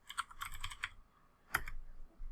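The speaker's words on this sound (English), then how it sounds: "we want to type in the command ipconfig" Fingers type on a computer keyboard in two short bursts of quick, close, crisp key clicks separated by a brief pause, with no voices.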